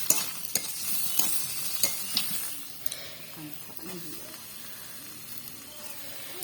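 Potatoes tossed into hot oil with salt, turmeric and fried spice paste, a sizzle with sharp clattering stirs and scrapes early on, settling into a quieter steady frying hiss.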